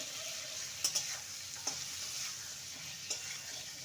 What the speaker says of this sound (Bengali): ভালো করে নেড়ে নিয়ে